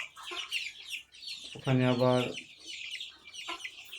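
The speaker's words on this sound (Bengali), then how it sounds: "তো এটা সিল্কি মুরগির বাচ্চা।" Silkie chicken chicks cluck and cheep close by, with one louder, drawn-out call in the middle, while a person speaks briefly in the background.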